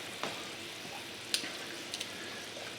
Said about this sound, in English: We're just going to put the green beans in,